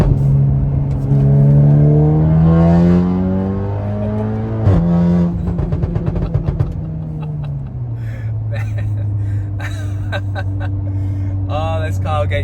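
A turbocharged Volkswagen Golf R Mk8 engine revs hard, pitch climbing steeply through the gears with a brief shift break, loud and close from inside, with a voice talking over it.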